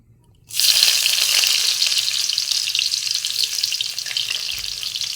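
Onions dropped into hot oil in a home kitchen pan, an abrupt loud hiss that settles into a steady bright sizzle and crackle, close and continuous with no talk.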